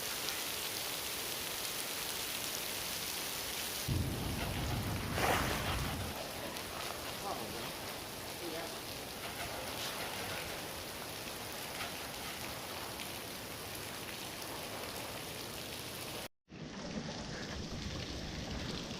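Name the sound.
heavy rain falling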